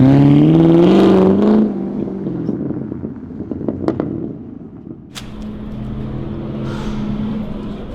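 Stock LS3 Corvette V8 engine with a decat exhaust, revving loud and close with a rising harmonic roar, then dropping to a steady lower drone with brief clicks and mechanical ticks.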